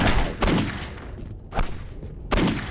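Three sharp gunshot bursts, about a second apart, from a headshot in the video game Postal 2, each a loud crack with a short decaying tail and no talk over them.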